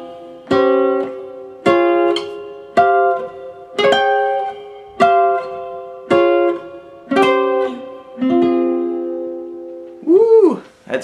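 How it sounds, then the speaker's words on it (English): A series of sustained piano chords in a pentatonic progression, each struck and left to ring, about one per second, ending with a brief wavering tone. "That's pretty. All right, so there you go. That's a cool chord progression."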